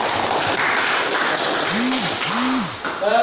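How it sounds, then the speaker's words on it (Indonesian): Classroom students applauding a presenting group, a steady loud patter of many hands clapping throughout, with a voice briefly audible near the end. "Kasih tepuk tangan dulu sama kelompok."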